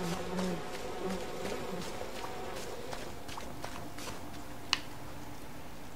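Bees and wasps buzz steadily around the player in the game We Happy Few while footsteps tap along beneath them, and one sharp click cuts in near the end.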